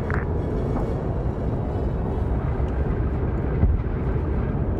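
Aircraft engine idling and running up before takeoff in a World War II German armor-and-plane combat video game, a steady broadband drone holding at even loudness throughout with no talk.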